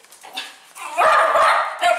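A pet dog barks and yips excitedly indoors as its owner arrives home, a few sharp close barks building into a loud burst of barking and whimpering near the end.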